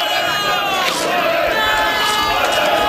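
A wrestling crowd in East Haven roars in a dense, loud wall of shouting and cheering, with whoops rising out of the constant noise throughout.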